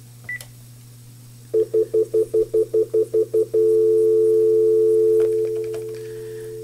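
Dialing on a Panasonic TGP office phone: about nine short keypad tones in a steady rapid rhythm, each tone clear and close over a faint line hum, followed by a long held tone with no speech.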